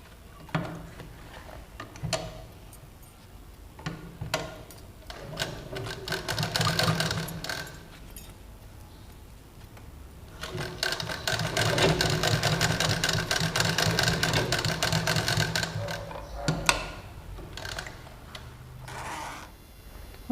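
Sewing machine stitching a zip seam, with bursts of rapid, steady mechanical whirring, a long continuous run in the middle, broken by pauses with handling clicks and rustles nearby.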